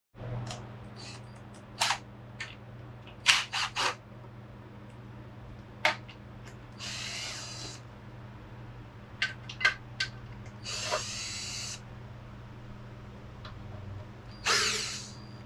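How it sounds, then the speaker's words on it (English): A power tool loosens the valve cover bolts on a Ford 400M engine. It fires in short, sharp bursts separated by quiet pauses over a low background hum, with a few longer whirring runs. "let's take one of these valve covers off"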